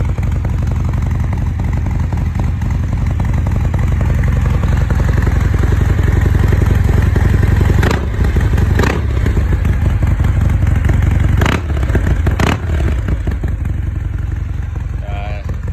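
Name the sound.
modified Harley-Davidson Fat Bob 114 motorcycle engine revving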